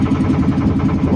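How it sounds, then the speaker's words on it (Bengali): Motorboat engine on the Ganges at Varanasi, a loud close chugging with a fast, even pulsing rhythm throughout a brief stretch. "এই যে আমরা লগে আরেকটা বোট ক্রস করে"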